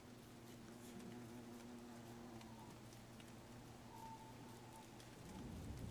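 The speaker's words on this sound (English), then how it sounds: "Oh, of course, it's raining!" Rain in the video game Don't Starve, a faint, even hiss of falling drops under a low tonal hum, steady throughout with a slight swell near the end.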